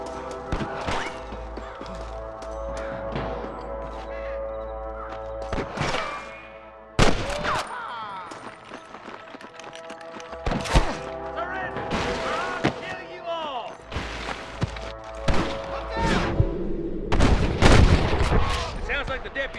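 Gunfire crackles through a Wild West shootout in Red Dead Redemption, scattered sharp rifle and pistol shots with echoing cracks and a few heavy bangs over ambient music, with voices speaking at times.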